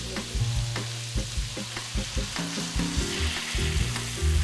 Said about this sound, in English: She deglazes the pan with white wine.